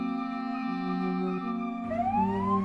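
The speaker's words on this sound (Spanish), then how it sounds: "La ambulancia llegó," An ambulance siren wails steadily, loud and close, its pitch shifting and then sweeping upward in the second half with no other sounds.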